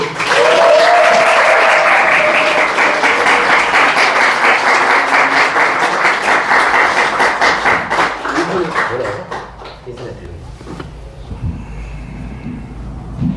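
Congregation applauding and cheering during a Sunday church service, loud sustained clapping and shouts that gradually thin out into scattered claps and quieter room noise near the end.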